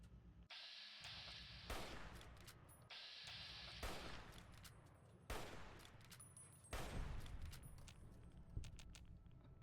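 Gunfire from a turret in Fallout: New Vegas, four or five loud blasts at roughly regular intervals, each with a long rumbling tail over a steady low hum.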